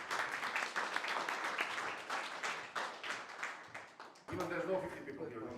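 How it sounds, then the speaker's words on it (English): Applause from an audience at a founder meetup: a dense, steady patter of clapping for about four seconds, then a voice starts speaking with fainter clapping still underneath. "So please, let's just give him a round of applause"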